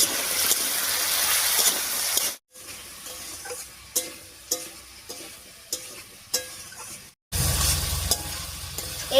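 Potatoes fry in plenty of oil in a pan, giving a steady sizzle broken by regular stirring scrapes. The sizzle cuts out briefly twice and then returns louder.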